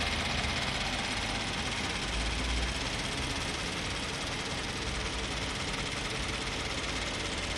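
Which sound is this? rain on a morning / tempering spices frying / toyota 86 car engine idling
toyota 86 car engine idling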